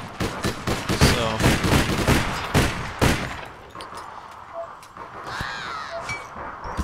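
Rapid bursts of gunfire crack through a match of the online shooter APB Reloaded, dense and loud at first, then thinning into sparser distant shots and ambient game noise.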